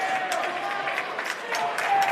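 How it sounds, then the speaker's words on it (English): Basketball crowd applauding in a high school gym during a varsity boys game between West Catholic and South Christian, a steady wash of clapping under continuous play-by-play commentary. "Applause from the Steeler faithfuls."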